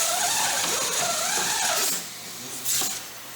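A Vroom DIY garage vacuum unit is twisted a quarter turn to switch off, giving a mechanical click as its loud whirring motor spins down.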